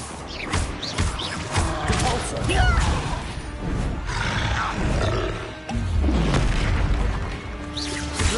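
The Repulsor spell in the Hogwarts Legacy video game blasts with booming, roaring bursts and rumbling impacts amid dense, loud combat sound effects, with a voice shouting over the chaos.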